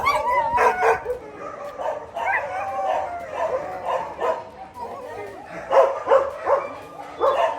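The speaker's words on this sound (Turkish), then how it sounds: "Hayvanlar çıkmak istediği için ağlıyorlar." Shelter dogs whine, yip and howl, wanting to be let out of their kennels. The plaintive cries rise and fall close by in a steady chorus.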